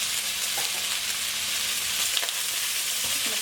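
Garlic and fried rice sizzle in a hot wok with a steady, dense crackle and a few faint stirring knocks, close and continuous with no voices.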